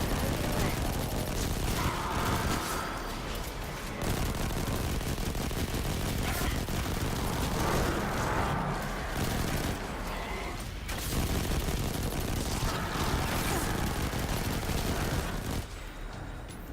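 Rapid bursts of gunfire from a Rampage gun in Destiny 2 Forsaken, dense volleys repeating in clusters with short pauses, fairly loud and near.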